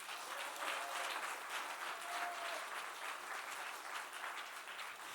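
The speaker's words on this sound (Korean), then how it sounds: "우리 원장님 사명 잘 감당하도록 박수 한번 쳐줘요." A congregation at a Korean church summer revival service claps together, a dense sustained round of applause heard at moderate distance with a faint tone drifting underneath.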